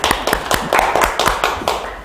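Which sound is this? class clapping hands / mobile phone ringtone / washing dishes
class clapping hands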